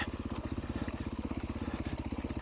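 A Beta 500 RRS single-cylinder dirt bike engine brakes on a downhill trail, giving a fast, even, pulsing thump that stays fairly quiet and steady for a couple of seconds without talk.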